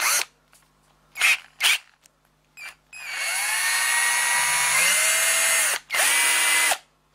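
DRA-12/P cordless drill-screwdriver whirring steadily at close range after a few short trigger bursts, with brief pitch dips as load changes, then stopping and starting again for one more short run.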